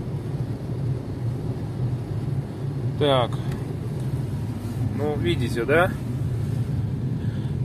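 A Lada Niva crawling slowly uphill through snow in low gear, its engine a steady, low drone running underneath someone speaking Russian, with a couple of brief higher whines.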